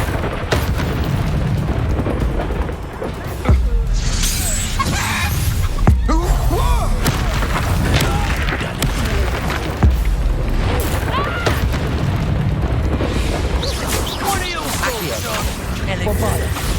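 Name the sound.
Bombarda spell explosions from video game Hogwarts Legacy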